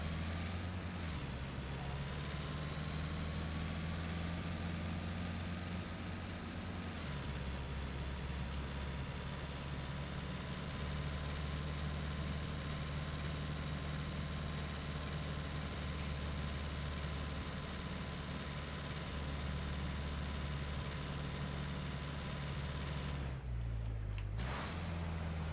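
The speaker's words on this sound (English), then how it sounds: "I can hear the engine looping." A road vehicle engine drones steadily in a repeating loop, a low sustained hum with faint shifts in pitch at a couple of points, fairly quiet and with no voices.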